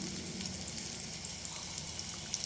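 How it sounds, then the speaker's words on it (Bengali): Fish frying in oil in a pan for a Bengali fish curry, a steady soft sizzle with fine crackling spatters running evenly throughout, fairly quiet with no voices. "তো দেখো আমার মাছগুলো প্রায় ভাজা ভাজা হয়ে গেছে।"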